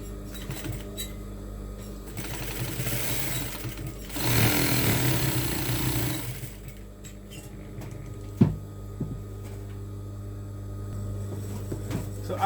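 A sewing machine stitching fabric in one short burst of fast mechanical whirring lasting about two seconds, surrounded by a low steady hum and occasional clunks of handling.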